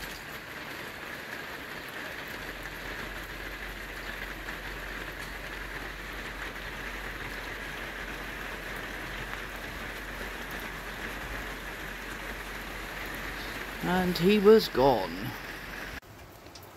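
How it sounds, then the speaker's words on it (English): Steady rain falls outdoors on a wet, dismal day, a soft continuous hiss on surfaces throughout, with brief speech near the end. "It's just rained since I got up. It's still raining."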